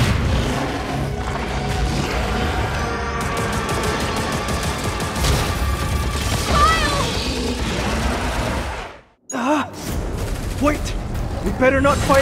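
Gunfire rings out at a creature in the game Earth: Revival, with rapid shots and impacts under loud combat noise and game voices, then a brief dropout before the firing resumes.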